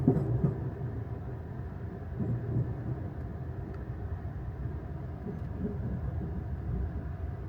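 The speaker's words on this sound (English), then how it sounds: "Traveling next to this freight train." Rolling rumble of trains on a desert line near the Mexican border, a passenger train running beside a freight train at nearly the same speed, steady low wheel and engine noise without pause.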